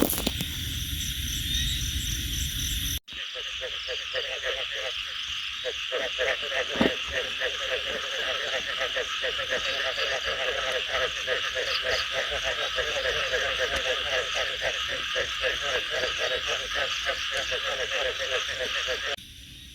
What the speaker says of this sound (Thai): ใช้หูของเราฟังเสียง เสียงร้องของกบก่อนนะครับ